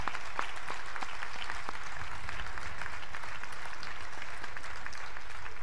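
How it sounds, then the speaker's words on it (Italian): Audience applause at a philosophy lecture evening, a full hall clapping steadily and evenly throughout with sharp individual claps scattered across a dense, unchanging wash. "nel fare un grandissimo applauso"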